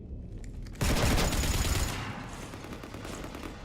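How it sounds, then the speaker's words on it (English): Gunfire in a video game strikes a ship: a sudden, dense burst of rapid shots that holds loud for about a second, then settles into a slightly softer sustained barrage. "You want to stop shooting up my ship?"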